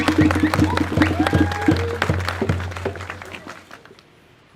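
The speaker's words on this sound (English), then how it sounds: "please give a warm applause to Leela Hassan Hussein." An audience applauds at a blue plaque unveiling for Darcus Howe. The loud, dense clapping is mixed with a low hum and gradually fades toward the end.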